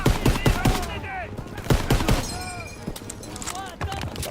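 Gunfire in Call of Duty WW2, rapid bursts of rifle and machine-gun shots with whizzing ricochets, loud and dense throughout, mixed with shouting voices.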